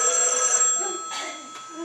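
A telephone rings on stage during a theatre play, a bright sustained electronic ringing tone that fills the space, with faint voices underneath.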